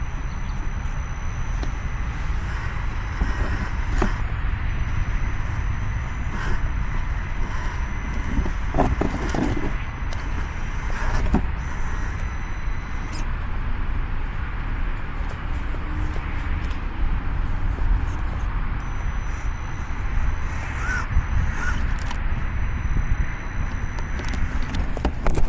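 An RC crawler with a brushed motor drives at Kitties Crossing, its thin, steady motor whine running for the whole stretch under heavy, constant wind rumble on the microphone.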